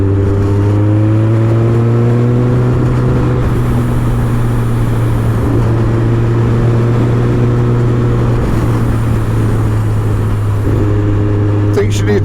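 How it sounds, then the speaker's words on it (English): A 370hp supercharged Kawasaki ZZR1400 motorcycle accelerates hard at about a third throttle, its engine droning as a steady low hum with rising harmonics under continuous wind roar, with a rider talking over it. "So as much as I'm accelerating hard, I'm only using about a third throttle."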